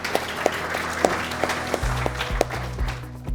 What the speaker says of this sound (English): A round of applause for our data teams,